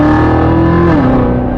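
A Chevrolet Corvette Z06 with a hand-assembled 6.2-litre V8 accelerates hard, its loud, steady engine note climbing in pitch and then shifting down as the gear changes, close and continuous with no talk.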